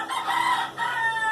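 A rooster crows twice in close succession, fairly near and clear, with a short pause between the two calls and no talk over it.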